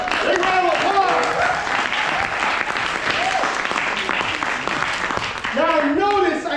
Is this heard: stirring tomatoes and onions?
no